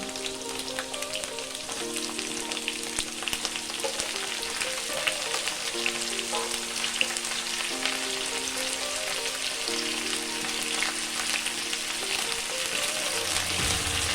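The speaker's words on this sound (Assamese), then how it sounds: "পিঁয়াজখিনি ৰঙচুৱা হৈছে, মই এতিয়া সজিনা আৰু আলুখিনি দি দিম।" Drumsticks and potatoes fry with onions in a pan, giving a steady, close sizzle that runs throughout. Faint scrapes come from the pan now and then, and there is no talking.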